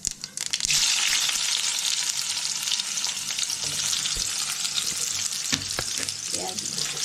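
Onion sizzles in hot oil in a pan as a tempering of dried red chilli and cumin is built for a fish-head dal, with a dense, steady crackle and a few stirring clatters near the end.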